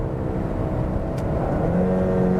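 An Ecoboost Mustang engine revs up in pitch on a downshift, climbing steadily from about 3,000 to 4,000 RPM over a couple of seconds with a continuous whirring drone.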